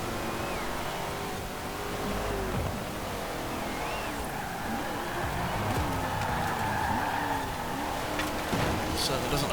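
A classic car racing in Forza Horizon 4, its engine droning and rising and falling in pitch through gear changes, steady and loud throughout, with someone talking over it.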